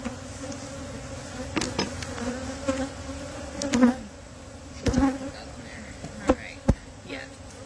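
Honey bees buzz at a hive entrance, a sustained droning hum with individual bees zipping close past and several brief louder passes standing out from the swarm.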